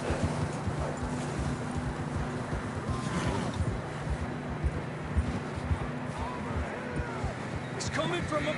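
Horses clip-clop along in Red Dead Redemption 2, a steady run of hoof beats on the ground, close and moderately loud, with voices talking over them and scattered bumps and rustles around.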